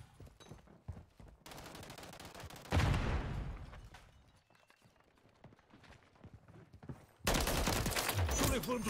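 Bursts of rapid gunfire in Call of Duty: Modern Warfare III crack loudly in two stretches, with quieter scuffling and rumble between them.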